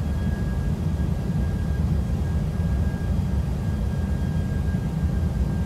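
Steady loud roar of a ToLiss Airbus A321 airliner on landing approach in the X-Plane 12 flight simulator, a broad continuous engine and airflow rumble with a faint steady tone above it, no talk.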